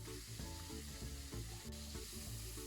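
Strips of pork sizzle loudly in a hot wok with garlic and ginger during a Sichuan fish-flavored pork stir-fry, a steady crackling hiss with rhythmic scraping and tossing underneath.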